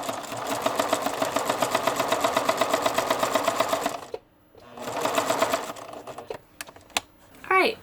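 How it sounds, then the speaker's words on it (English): A sewing machine basting fabric petal pieces for a flower runs in a fast, steady mechanical rattle, stops briefly, starts again for a shorter run, then falls quiet with a few light clicks. "So I'm going to go ahead and put my pieces through the machine."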